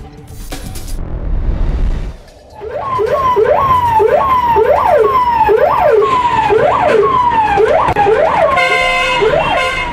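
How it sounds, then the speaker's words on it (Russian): A loud, wailing fire truck siren sweeping up and down repeatedly, close and continuous, followed by a rapid yelping pattern at the end, as the truck drives through city streets in Shymkent. "Автомашина службы пожаротушения, включив специальный звуковой сигнал, проехала по улицам"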